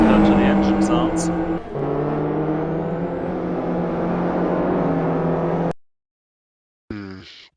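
Race car engines from a racing video game drone steadily at close range under continuous talk, then cut out abruptly near the end before a short return.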